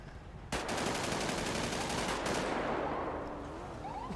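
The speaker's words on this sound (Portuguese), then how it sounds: "tá tendo um tiroteio aqui" Gunfire in a GTA V roleplay shootout, a dense rapid automatic burst starting abruptly and rattling on loudly for several seconds before easing slightly, with no talk.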